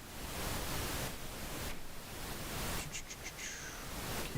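Pink noise plays steadily on the master bus of an FL Studio session, a constant broadband hiss at even loudness throughout, with a few faint brief tones near the end.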